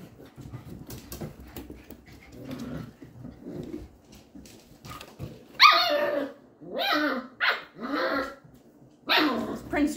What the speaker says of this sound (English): Prince George, he really likes to make a lot of noise when he plays.